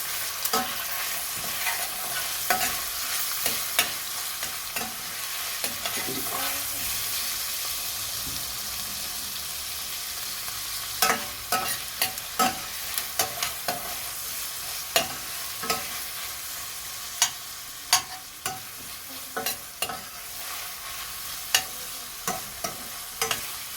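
A spoon stirs chopped vegetables in a pot for a güveç-style türlü stew, with soft sizzling underneath and repeated sharp scrapes and knocks against the pot, growing more frequent toward the end.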